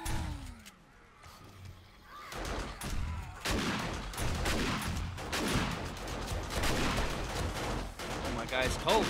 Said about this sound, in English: Get my shotgun ready.